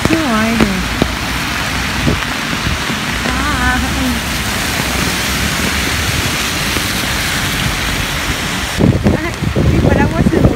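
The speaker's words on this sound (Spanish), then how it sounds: "Oigan, llueve y hace muchísimo aire." Rain falls steadily while strong wind rushes and buffets nearby for the whole stretch, with brief voices heard early on.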